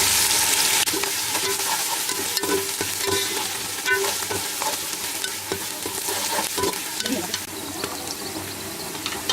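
Biryani masala fries in a pan with a continuous close sizzle and crackle, broken by scattered scraping and stirring taps throughout.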